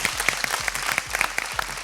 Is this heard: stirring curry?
no